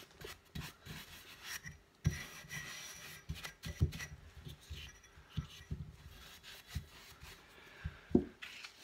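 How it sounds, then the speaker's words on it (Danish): A soft scouring sponge wipes excess chalk paint from a wooden surface, making quiet, continuous rubbing and rasping strokes with occasional sharper knocks as it moves. "tager en blød side af en grydsvamp, lige at tørre det overskydende af"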